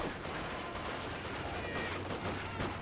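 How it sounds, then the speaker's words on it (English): Grenadiers in Company of Heroes 2 fire a rifle grenade amid a steady wash of battle noise, gunfire crackling throughout at moderate loudness with no clear single standout blast. "the Grens shoot a rifle grenade"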